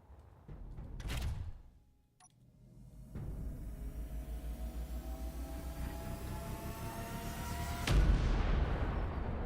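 Weapons in Space Engineers fire in single heavy blasts, one early and one near the end, while a rhythmic mechanical hum pulses steadily in between.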